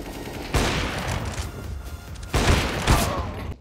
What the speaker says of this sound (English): Yo, these shotguns are nuts.